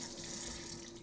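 Kitchen tap water running steadily into a sink while green onions are rinsed during a cooking class, a soft continuous splashing stream with no talk.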